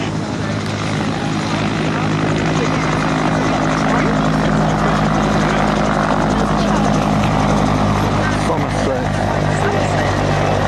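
A Westland rescue helicopter flies close by at full power, its steady rotor thrum and turbine whine loud and continuous throughout.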